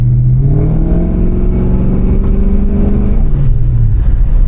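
A Ford 5.0 V8 with a Flowmaster 40 series muffler revs up from inside the car, its deep exhaust note rising and falling steadily, loud and continuous with no talking.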